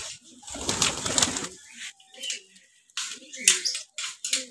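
Pigeons in a backyard loft coo softly and intermittently around fresh drinking water, with bursts of splashing and wing flutters close by.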